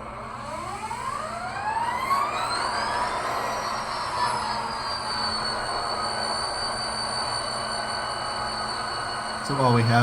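ScaleTrains SD40T-2 model diesel locomotive with a LokSound v5 sound decoder starting up, the engine sound winding up in a rising whine and settling into a steady idle drone, close and alone, with a short clunk at the end.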